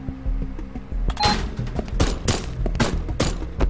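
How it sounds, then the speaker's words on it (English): Gunshots in the video game Haydee: several sharp, loud shots crack out in an uneven sequence over a low background hum. "I'm just gonna shoot the guy normally."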